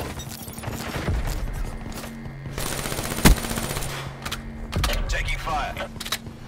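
Rapid automatic gunfire in a video game, with loud bursts of shots punctuated by sharp single cracks and mechanical clicks, alongside other game effects.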